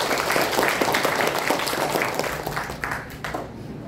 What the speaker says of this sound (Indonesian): Boleh tepuk tangan sekali.